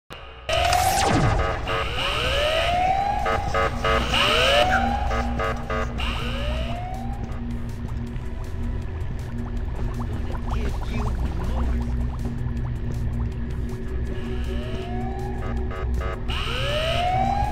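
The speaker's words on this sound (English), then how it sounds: "Sound the alarm." An alarm siren in the Ice Scream 8 video game wails in repeated rising sweeps, loud and continuous, with a sharp burst at the start and a steady droning background underneath.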